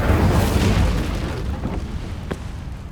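An Incendio fire spell cast in Hogwarts Legacy, a loud whooshing burst at the start that fades into a rumbling, crackling tail over a few seconds.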